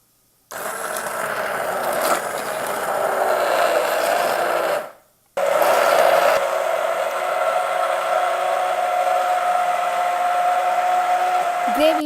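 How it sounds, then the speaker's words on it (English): A kitchen grinder blends paneer butter masala gravy in a loud, steady whir that runs for several seconds. It cuts out briefly, then starts again and keeps grinding at the same even pitch. "Now we are going to grind it."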